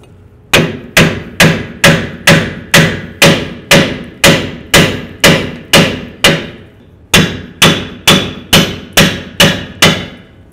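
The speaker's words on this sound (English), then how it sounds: "just go ahead and use a hammer and very carefully tap along this area here and try to drive this off" Rapid, steady metal hammer strikes tapping a pinion yoke off a 1994-2004 Chevy S-10, about eighteen sharp loud taps in a regular rhythm with a brief pause midway.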